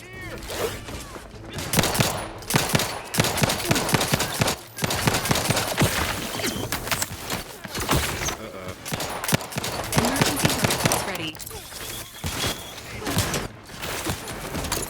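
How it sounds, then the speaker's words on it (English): Machine gun fire in Outer Worlds 2, sustained loud rapid bursts rattling on and off over several seconds with brief pauses between volleys. "What about machine guns?"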